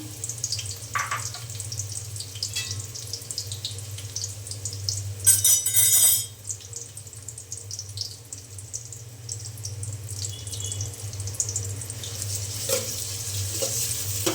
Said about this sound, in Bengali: তেল গরম হয়ে গেছে এখন আমি পেঁয়াজ দিয়ে দিলাম